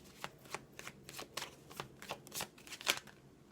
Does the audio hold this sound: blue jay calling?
no